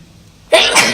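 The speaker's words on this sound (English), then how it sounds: "I sneezed it did." A single sharp, loud sneeze bursts out close by, sudden and breathy, following near silence.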